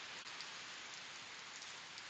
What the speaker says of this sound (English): It just started pouring here too.